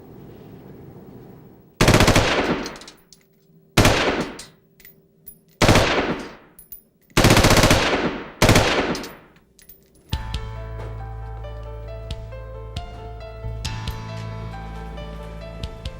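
A firearm is test fired by a ballistics expert in five sharp, loud, reverberant shots spaced about two seconds apart, followed by a sustained low droning tone with no voices.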